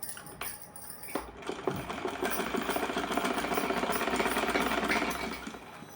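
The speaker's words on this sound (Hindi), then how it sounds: "रखने के बाद हम इस पर सिलाई लगाएंगे इस तरह से" A sewing machine runs steadily while stitching a fabric piece of a small fancy dress for a Laddu Gopal idol, its rapid mechanical whirr building after a brief start and continuing close and even with no talk.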